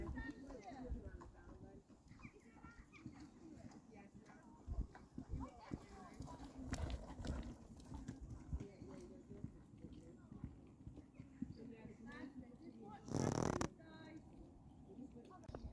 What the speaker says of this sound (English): As usual, we have a canter on both reins and then we popped a little cross pole.